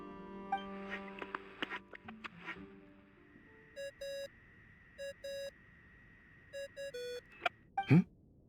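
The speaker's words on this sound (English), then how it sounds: "I really hate that ringing tone" Repeated electronic phone ringtone in Genshin Impact: short bursts of bright, clean beeping tones, several separated rings, with soft game sounds before and a sharp chime at the end.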